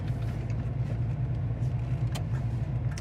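A 1978 Pontiac Firebird Formula runs through its gears, its engine a steady, loud low rumble close by, with no clear shifts or pauses across the short stretch and no talk.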